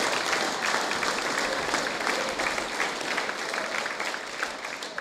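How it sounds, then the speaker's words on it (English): Sustained applause fills a hall at a school's junior prize-giving, an even, dense roll of many hands clapping at once that continues without pause for the whole stretch. "Can we have another round of applause?"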